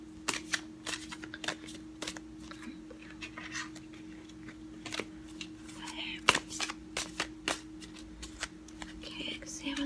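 Tarot cards shuffled close by in a quiet room, a run of soft papery flicks and riffles with faint breathy whispering in between.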